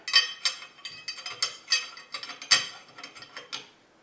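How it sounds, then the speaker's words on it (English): The bolt of an Evo 12 shotgun is dropped back into the receiver during reassembly. It gives a close run of sharp metallic clicks and rattles, a dozen or so quick ticks, with no one speaking. "you drop your bolt back in there"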